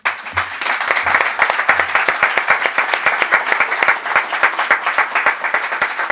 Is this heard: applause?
yes